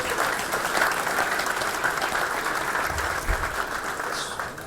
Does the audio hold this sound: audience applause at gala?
yes